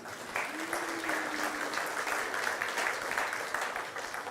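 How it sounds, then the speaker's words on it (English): Congregation applause during a church sermon, a brief even round of clapping from many hands at moderate distance, with a faint voice briefly audible early on. "give a little round of applause for that"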